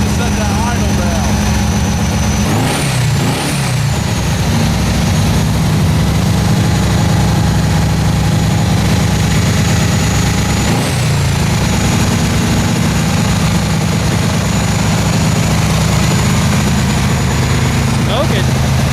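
A gaseous-fueled engine idles on a test run with a loud, steady low drone and whine, a few rising mechanical whoops over it, heard close and continuous throughout.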